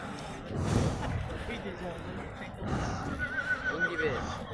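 A horse whinnies loudly near the start, then more neighing and snorting follow amid outdoor background noise and voices.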